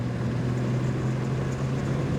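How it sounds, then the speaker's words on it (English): A Jaguar XK150 classic car's engine drones steadily from inside the cabin while driving, a low, throaty, unbroken hum with no talking. "That engine note is throaty."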